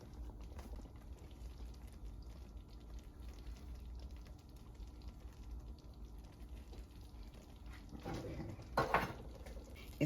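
Gravy simmers quietly in a pot, a low steady bubbling murmur, then near the end a spoon or utensil clinks and scrapes against the pot.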